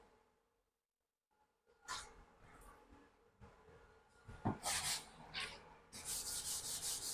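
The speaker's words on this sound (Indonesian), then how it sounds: "Dan kita amplas menggunakan air" Rough rubbing strokes of wet sandpaper, used with water, scrape against a car body panel in uneven bursts, starting after a quiet moment and growing louder toward the end.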